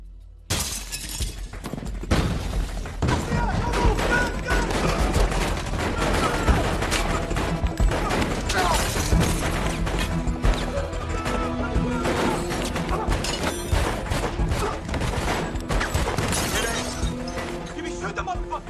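Rapid gunfire and shattering impacts in a tense crime thriller shootout, loud and dense throughout, with shouting voices mixed into the chaos.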